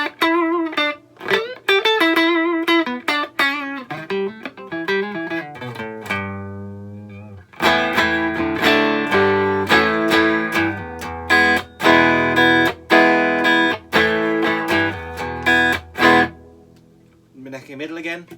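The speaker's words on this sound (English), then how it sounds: "So I've got a lot of reverb today." A 2005 Mexican Fender Standard Stratocaster electric guitar played clean through heavy reverb. Picked single notes and chords ring out with long washy tails, and a pause and a brief low strum fall between the phrases.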